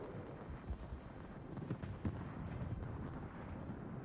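A torpedo striking a warship in World of Warships, heard as a dense, rumbling explosive roar with sharp booming hits around the two-second mark, loud and sustained across the whole stretch.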